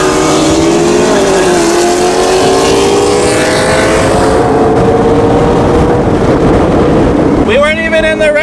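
Race cars, a Toyota Supra against a Mitsubishi Evo, roar at high speed in Mexico with sustained engine drone and rising revs, loud and close, ending in a sharp whining climb in pitch.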